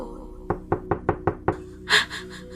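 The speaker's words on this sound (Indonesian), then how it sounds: "ada yang kembali mengetuk pintu kamarku ini." Knocking on a bedroom door at night: six sharp, evenly spaced raps in a steady rhythm, close and clear, followed by a brief soft rustle.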